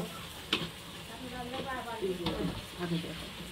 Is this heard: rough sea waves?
no